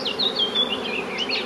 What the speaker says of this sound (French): Je vois beaucoup d'abeilles, donc déjà, c'est bon signe.